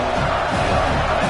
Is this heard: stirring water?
no